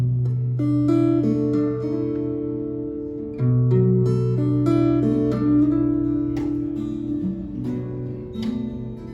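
Fingerstyle acoustic guitar playing a short passage of plucked notes and chords, with a note slid upward instead of released, ringing clearly and alone at a steady moderate level.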